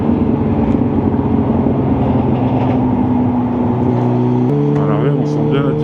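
A BMW M3 E46 engine idles at standstill after warming up, producing a loud, close, steady droning hum with a slight shift in pitch toward the end.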